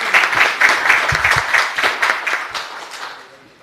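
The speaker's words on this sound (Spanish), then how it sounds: "Le damos un fuerte aplauso." Audience applauding a speaker at a university anticorruption lecture, brisk close clapping that swells then fades out over a few seconds.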